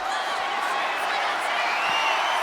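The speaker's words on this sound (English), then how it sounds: "Taking a moment to get pumped off of this crowd's incredible energy" Arena crowd noise from the WWE 2K25 wrestling video game, a steady dense roar of cheering that holds at an even, fairly loud level with no talk over it.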